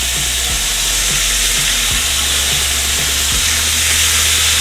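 Pepper flakes fry in oil in a skillet on a home kitchen stove with a loud, constant sizzle close by. Soft, regular taps of a utensil against the pan come through the frying.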